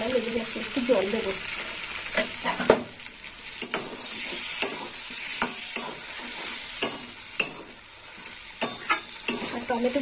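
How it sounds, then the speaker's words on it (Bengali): Fried potatoes are sautéed with spices in a kadai while making a rohu fish curry with mango. A steady sizzle runs throughout, broken by repeated clicks and scrapes from stirring against the pan. "এই দেখুন বন্ধুরা, মশলার সঙ্গে আলুটা এইরকম কষা হচ্ছে, আর একটু কষতে হবে"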